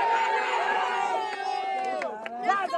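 Crowd cheering and shouting at a rap battle, a dense wash of voices and whoops with a lead voice calling out over the noise, close and steady.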